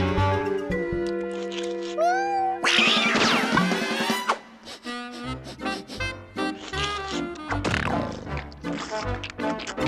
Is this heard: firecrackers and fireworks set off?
no